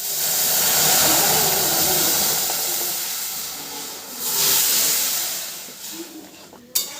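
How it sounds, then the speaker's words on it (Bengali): Lentils with whole cumin tempered in a little oil in a wok over high flame, a loud steady sizzle and hiss that gradually softens, with a faint clink near the end. "ভালো করে ফোড়ন করে নিয়ে এবার এই ডালটা এখানে ঢেলে দিচ্ছি।"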